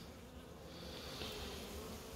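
A dense, continuous drone of many honey bees buzzing together inside a hive with the queen present, steady and quiet, with no voices.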